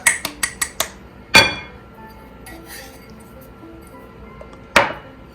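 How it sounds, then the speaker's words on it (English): Breadcrumbs are added to an egg stuffing mixture in a bowl, heard as a quick run of sharp clinks followed by two louder isolated knocks, close by and with no talk. "We've got a half cup in here, so we're going to add another half cup."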